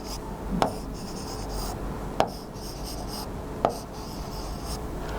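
A pen scratching across paper while a Wheatstone bridge circuit diagram is drawn, with soft continuous rubbing strokes broken by three sharp taps spaced about a second and a half apart, close and quiet with no talking.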